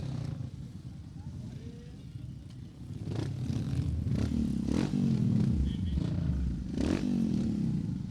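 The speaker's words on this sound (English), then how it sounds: "the novice category Himalayan bikes are starting to line up, preparing for their race" Royal Enfield Himalayan motorcycles line up at the start of a novice dirt track race, their engines rumbling and idling nearby with occasional revs and clatter, building slightly in the second half.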